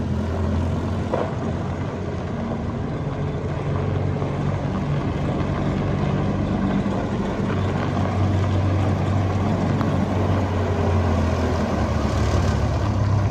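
A 2005 Bobcat V723 telehandler engine runs steadily throughout with a continuous low diesel rumble, close and fairly loud, while the machine drives.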